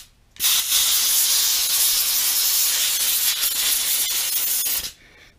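Compressed air blasts from a shop compressor line in one steady, loud hiss lasting about four and a half seconds, cutting in and out abruptly.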